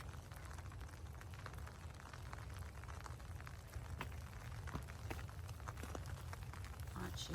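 Steady rain patters across a garden with iceberg roses and a dry creek bed, a continuous close hiss of drops with low rumble beneath and no voices.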